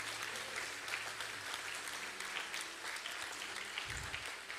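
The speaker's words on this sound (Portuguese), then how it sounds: "Quem crê nisso, dê uma salva de palmas ao Senhor." A church congregation applauds a preacher, a sustained even wash of clapping from many hands throughout, heard from some distance in a large room.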